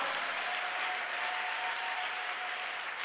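Steady, dense applause from a church congregation fills the whole stretch at an even level, with no pauses and no clear voices standing out.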